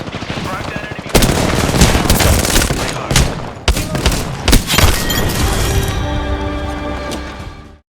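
Video game gunfire rings out in loud, dense bursts of rapid shots and sharp booms that run almost without pause through the whole stretch, with a sustained electronic tone rising near the end before it cuts off.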